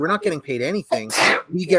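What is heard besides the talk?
sneeze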